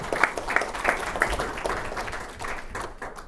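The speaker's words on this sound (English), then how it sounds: "Give a round of applause" A startup talk audience gives a short burst of applause, with scattered claps that thin out over a few seconds.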